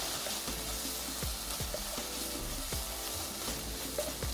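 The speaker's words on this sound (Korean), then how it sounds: "다시 볶아주세요" Canned tuna stir-fried with pepper in a pan makes a soft, steady sizzle with scraping from a spatula, fairly quiet and without talk.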